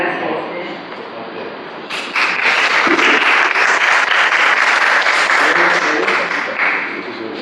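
Audience applause at a panel on a regional youth leadership programme swells into loud, steady clapping that fills the hall after a short stretch of murmured crowd noise.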